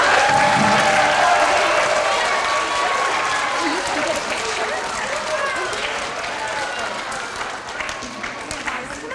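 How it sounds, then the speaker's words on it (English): Applause at a pre-K to third grade character education assembly: a crowd of children and adults claps loudly and steadily, with faint voices and cheers mixed in, gradually easing off toward the end. "let's go give them one more big round of applause"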